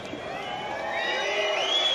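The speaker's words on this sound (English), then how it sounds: "the crowd giving Rossi the sympathy vote" Tennis crowd at Roland Garros during a 1996 semifinal, a steady sustained roar of voices and cheering that swells slightly toward the end, dense and continuous throughout.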